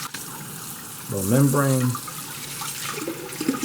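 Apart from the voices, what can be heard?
running tap water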